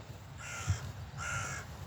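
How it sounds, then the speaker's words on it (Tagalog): Crows caw in two drawn-out calls spaced about a second apart, moderately distant over a low rumbling background on a foggy morning in Berlin. "Yan mga uwak."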